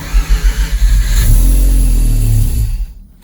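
A cold Mazda RX-7 Turbo II rotary engine cranks with a quick pulsing starter rhythm, then catches and settles into a loud, steady rumble before cutting off abruptly near the end.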